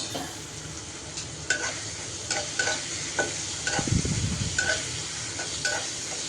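Onions and sliced green chilies frying in a pan, a steady close sizzle broken by repeated scraping and stirring strokes, with one heavier clatter midway and no talking.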